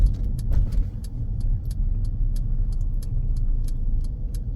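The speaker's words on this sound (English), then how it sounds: "as I'm driving out of the test centre through the green gates" A car pulls out of a driving test centre in Huddersfield with a low, steady engine rumble heard from inside, while a regular ticking clicks above it.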